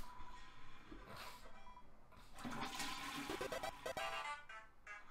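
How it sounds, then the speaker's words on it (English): A toilet flushes in the video game Deltarune, a rushing gurgle of water that swells and then drains away, fairly faint and with no talk. "Flush the toilet."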